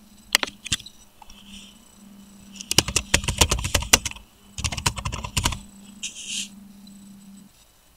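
Fingers type an email subject line on a computer keyboard in short, quick bursts of clicking keystrokes with brief pauses between them, close and clear over a low steady hum.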